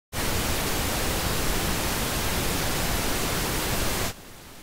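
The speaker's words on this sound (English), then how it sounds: "This is pink noise." Steady pink noise fills the frame at a constant loud level, broadband and hissing, then drops abruptly to a much quieter noise floor near the end.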